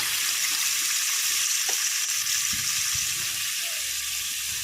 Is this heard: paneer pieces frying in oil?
yes